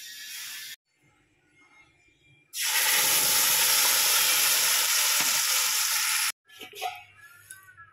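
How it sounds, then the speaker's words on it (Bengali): Pumpkin slices frying in a pan, a loud close hiss and sizzle that starts abruptly and holds steady for several seconds before cutting off, with quieter household sounds before and after. "আজকে একদম সিম্পল রান্না করছি। এটা হচ্ছে গিয়ে কুমড়ো ভাজা।"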